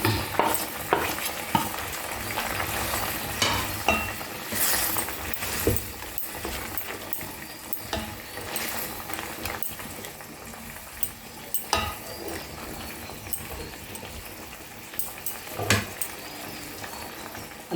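Egg chilli gravy bubbling and simmering in a pan, a steady close sizzle with occasional clinks of a spoon stirring, no talking.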